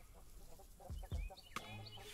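Chicken clucking in the video game Yaga: a few short clucks and squawks at moderate level, followed by a brief sharp call, with low background rumble.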